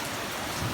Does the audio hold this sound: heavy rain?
yes